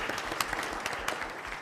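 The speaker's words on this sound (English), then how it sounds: "I got some applause for that one" Brief applause at a meeting, a short burst of scattered clapping from a modest crowd, fairly quiet and fading out.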